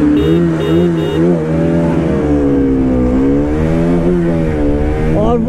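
Pulsar RS200 motorcycle engine revving hard and holding against the rev limiter, a loud, close, continuous drone with wavering pitch bouncing at the cutoff, with no talk over it.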